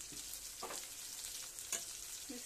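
Spice masala frying in a pan for a magur fish and vegetable curry, a soft continuous sizzle with a few light stirring scrapes.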